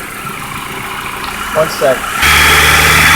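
A 2002-2006 Honda CR-V engine hums at idle, then rises abruptly to a steady, louder rev near 2,000 rpm, with a brief spoken voice heard just before.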